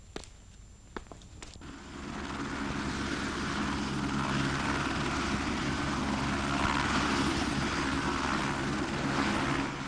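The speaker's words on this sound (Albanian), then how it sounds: "të bëhet gati një helikopter transporti për Gurabardh" Transport helicopter in flight, a steady droning rotor and engine roar that builds after a couple of sharp knocks and then holds loud and continuous to the end.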